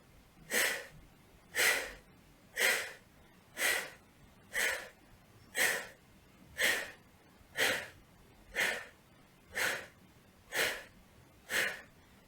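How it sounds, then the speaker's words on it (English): Rapid yogic breathing in a hatha yoga session, each breath pushed out forcefully through the mouth: about a dozen strong breathy exhalations repeat close and steady at roughly one per second, with no talking. "I'm going to do it through the mouth just to emphasize that breath."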